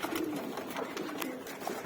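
Pet pigeons coo softly in their loft, low throaty calls repeating over a faint hiss, with light scattered ticks and no voices.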